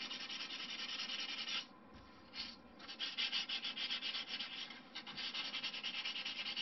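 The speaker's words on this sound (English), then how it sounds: "I'm almost sanding as much of the bench as I am the actual fin." Close, steady back-and-forth hand sanding of a balsa wood model aircraft fin on a bench, a rhythmic rasping rub with a couple of brief pauses.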